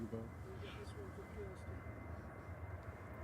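A KLM airliner leaving Manchester Airport for Amsterdam makes a steady, distant jet roar under a spotter's voice talking over it.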